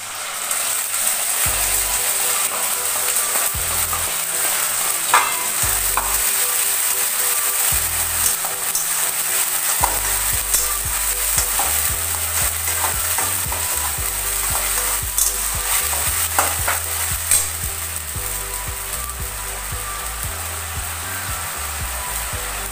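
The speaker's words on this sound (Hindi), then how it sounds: "ये देखिए पहले मैं टमाटर पेस्ट को डाल रही हूँ" Tomato paste sizzling and frying steadily in a hot pan while cooking palak paneer, a continuous loud crackling hiss with occasional stirring clatter and a low rhythmic hum underneath.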